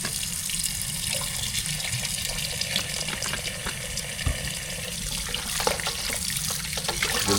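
Lamb chops are washed with vinegar under running tap water, a steady close splashing and trickling in a sink that continues throughout with no talking.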